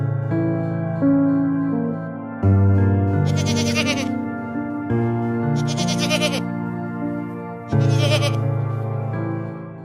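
A sacrificial goat for Qurbani bleats loudly and close by, three long wavering cries spaced a few seconds apart, each one trailing into the next.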